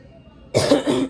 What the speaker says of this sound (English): You cannot cough, baby. But you have to.